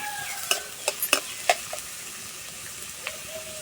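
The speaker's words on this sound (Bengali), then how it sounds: "পেঁয়াজটা ভালো করে ভেজে নেব।" Chopped onions fry in a pan for a flour-and-onion snack, giving a faint low sizzle with a few sharp utensil taps and scrapes early on, then quieter frying alone.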